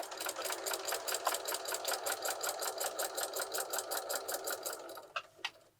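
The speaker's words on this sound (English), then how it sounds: "we're going to take it over to the machine and we're going to stitch right along that edge here" A sewing machine runs steadily, stitching along the edge of a fabric placemat with a fast even rhythm of needle strokes, close and clear, slowing to a stop near the end with a couple of sharp clicks.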